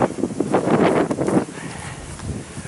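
Wind buffets the microphone in rough, rumbling gusts, strongest at first and then easing into a steadier outdoor rush.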